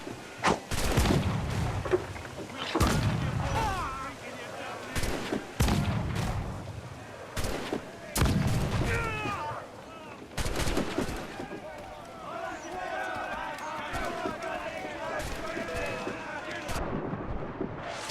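Heavy cannon broadsides in a naval battle in Assassin's Creed IV Black Flag, with repeated booming blasts, crackling debris and shouting crew voices throughout, the firing loud and close before thinning into scattered rumbles.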